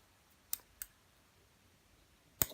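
Scissors snip black marabou while a trout fly is being tied: three short, crisp clicks, two close together and one after a pause, quiet and close in an otherwise hushed room.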